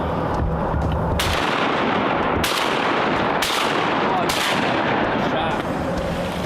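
Shotgun blasts ring out during a Wisconsin duck-season opener hunt, four loud, sharp reports spaced about a second apart over a steady outdoor background.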